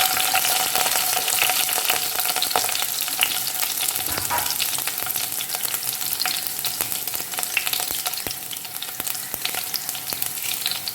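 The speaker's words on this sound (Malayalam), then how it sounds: "എണ്ണ ചൂടായി ഇതിലേക്ക് കടുകിട്ട് കൊടുക്കാം ഉള്ളി" Mustard seeds and onion frying in hot oil for a prawn coconut curry, a loud, dense hiss thick with sharp crackles and pops from the spluttering seeds, continuous and close.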